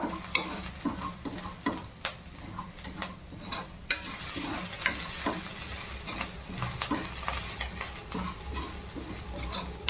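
A spoon steadily stirs paneer bhurji with onion, capsicum and green chillies in a hot pan, giving repeated scraping clinks over a constant sizzle, close and alone.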